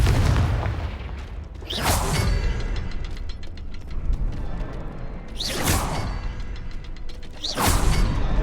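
A Confringo fire spell cast in the Hogwarts Legacy video game, heard as three loud whooshing bursts with sharp mechanical clicks over a steady rumbling game background, no talking.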